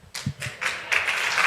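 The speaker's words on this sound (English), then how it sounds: "Why are you guys clapping?" Scattered audience clapping heard in short bursts, a few claps at first building into denser applause toward the end.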